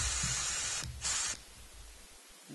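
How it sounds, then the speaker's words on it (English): Compressed air from a nozzle blown across a hole in a double-ball car wash swivel, giving a close hissing blast in short bursts, with one strong burst before the air trails off to a faint hiss. "the trick we like to use is to blow across this hole with an air nozzle"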